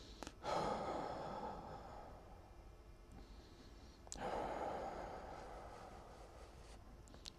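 Slow, deliberate breathing with long drawn-out exhales, two soft breaths spaced several seconds apart, close and quiet, with no talking.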